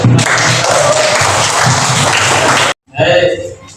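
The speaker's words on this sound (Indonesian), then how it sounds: "berikan tepuk tangan untuk" A classroom audience claps for a student during a lesson on law and social rules, a dense burst of applause lasting over two seconds before cutting off sharply, followed by a brief voice.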